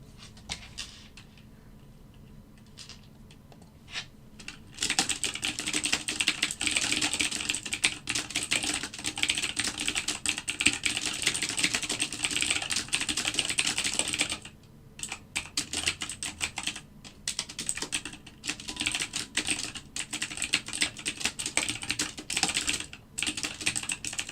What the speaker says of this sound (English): see if I can do this typing test